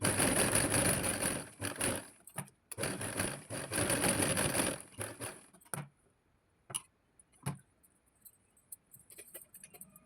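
A sewing machine stitching a cutwork blouse runs in a loud, close, steady whir for about five seconds with brief pauses, then stops, leaving a few short isolated clicks and bursts of handling.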